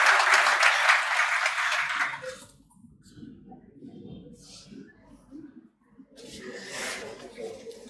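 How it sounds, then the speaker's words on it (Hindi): Audience applause from an interview event for a UPSC IAS topper, a loud burst of clapping that fades after about two seconds, followed by quieter rustling and murmuring and a brief second swell of clapping. "एक बार ताली बजा लो आप सारे लोग।"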